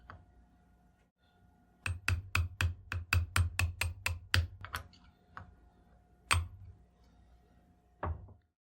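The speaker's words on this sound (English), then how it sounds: "I'll need to use a small hammer to give it a few taps." A rapid series of about a dozen sharp metallic taps from a small hammer driving a pin into a Czech vz. 50 pistol slide, then a few isolated taps after a pause, close and fairly quiet.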